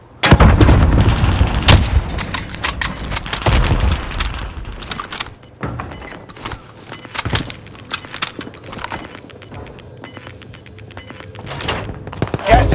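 Frag grenade blast and gunfire in Call of Duty: Warzone on Rebirth Island, with heavy booms early on followed by scattered sharp shots and thuds, loud and mixed with game noise.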